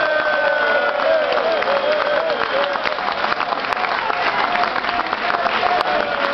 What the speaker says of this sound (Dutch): Uw applaus voor de Matador.